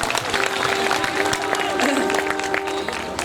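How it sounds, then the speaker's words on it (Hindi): Audience applause at a Hindi poetry recital in Khariar Road, Odisha, a brisk round of clapping with crowd voices and a sustained vocal tone mixed in. "मैं चाहता हूँ एक और कविता के लिए एक बार जोरदार तालियां।"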